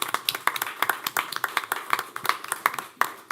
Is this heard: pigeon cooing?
no